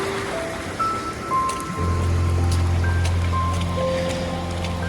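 Steady rain falls during a hike on Réunion island, a broad soft hiss that continues throughout, joined partway by a low steady drone and scattered faint tones.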